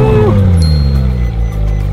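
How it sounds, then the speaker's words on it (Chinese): A Ferrari 458 sports car starts up, a loud, close engine rumble with a falling whine right at the start that settles into a deep, steady idle. "那接下来我们就要准备发动，"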